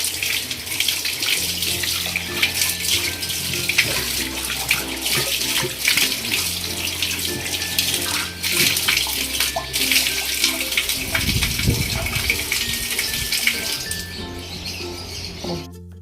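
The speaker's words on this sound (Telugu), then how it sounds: "నీళ్ళు పోసి కడుగుదామా." Water is poured and splashes steadily over brass and silver utensils being rinsed, a continuous close gush with faint clinks, a heavier low surge near the end, and light bird chirps in the background.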